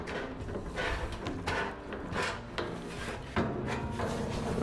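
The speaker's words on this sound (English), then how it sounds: "Just working a little bit at a time to shrink this flange." A metal inner fender flange is worked a little at a time to shrink it, giving repeated rasping, rubbing metal strokes at close range with no talk.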